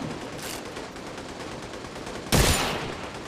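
A marksman rifle fires in The Division 2 video game: a single sharp, loud shot cracks out near the end over a steady hiss of game ambience.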